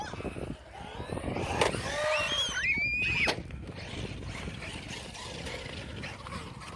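A Traxxas Maxx 4S radio-controlled car drives outdoors on a nice day, its electric motor whining up and down in pitch through short bursts, moderately distant, with rustling and knocks from its movement.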